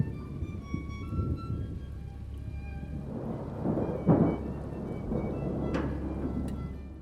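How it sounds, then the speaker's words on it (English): Steady rain falls while low thunder rumbles in the distance, with a nearer crack and roll midway through. "relying on ambient sounds such as thunder and rain to create suspense."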